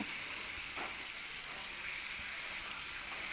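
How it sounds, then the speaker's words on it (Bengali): Pointed gourd (potol) fries in a pan under a faint, even sizzle, with a few soft stirring scrapes breaking through. "পটলটাকে আমি এবার ঢাকনা খুলে একটু নেড়ে দেব"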